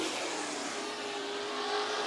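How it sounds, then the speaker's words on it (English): Race cars roaring around the track during a heat race at Bakersfield Speedway, a loud, continuous engine drone with a slight rising pitch as the cars run past, with no voices. "Smith, despite the issues, is having a solid heat race."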